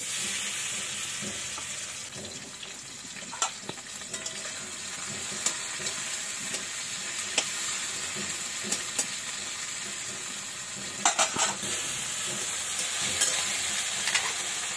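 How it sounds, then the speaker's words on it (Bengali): Hilsa fish heads rubbed with salt and turmeric fry in hot oil, a steady dense sizzle and crackle that runs through the whole stretch, punctuated by occasional spatter pops and utensil clicks, close and without speech. "লবণ হলুদ, তেল দিয়েছি, আমি তেলের মধ্যে মাথাগুলো ছেড়ে দিলাম।"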